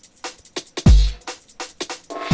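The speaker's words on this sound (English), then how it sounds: "I found this tambourine loop" Sampled tambourine loop in a music sampler, its bright jingling hits repeating in a steady groove alongside punchy kick drum thumps, loud and close with no talking.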